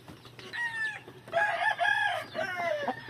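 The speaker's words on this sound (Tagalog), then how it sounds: "bali papakita ko po sa inyo yung yung regular hatch gray ko na broodcock" A regular hatch grey broodcock rooster crows three times in quick succession, each call loud, close and rising then trailing off, with no talking.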